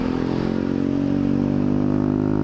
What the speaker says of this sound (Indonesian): Aduh, ini motor berisik banget.